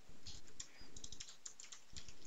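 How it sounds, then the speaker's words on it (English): Rapid bursts of typing on a computer keyboard, close and clear, with short pauses between runs of keystrokes and no talk. "I will simply type in a message here"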